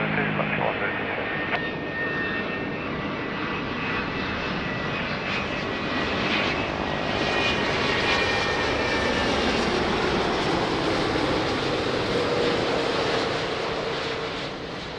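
An airliner approaching to land on runway 02 at Lisbon Airport drones as a loud, sustained engine roar throughout, with a radio voice from the control tower heard over it.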